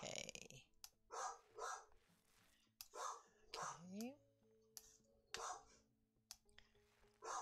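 A dog barks in repeated short bursts nearby, while a person is walking it; quiet speech and clicks fill the gaps between barks.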